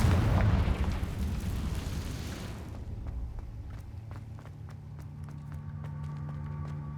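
A Confringo fire spell explodes in the video game Hogwarts Legacy with a loud, rumbling boom that fades over a few seconds. Light clicks and a steady game hum follow, and there is no talking.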